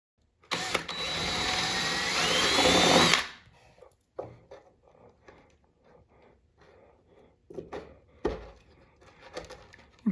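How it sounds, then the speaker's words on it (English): A power drill bores a hole in wallboard for a hollow wall anchor, whining loud and steady for about three seconds up close, followed by quieter handling clicks and clatter. "So let's drill a hole."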